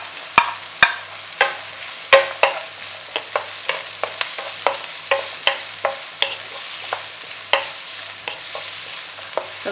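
Onions and vegetables sauteed over high heat for mushroom pepper fried rice, with a steady sizzle and frequent sharp scrapes and clacks of stirring close by, with no talk.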